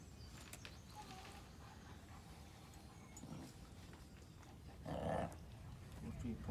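Poppy the dog gives a low, angry growl that swells briefly near the end, faint and close amid soft background voices and quiet room noise.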